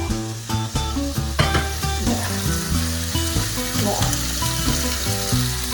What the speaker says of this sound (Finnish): Pekonit pannaan paistumaan sinne niin.